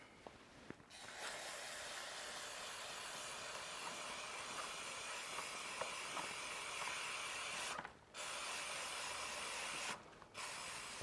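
Cleaner rinsed off a rusty motorcycle chain as a steady, close rush of hissing spray, broken by two short pauses near the end.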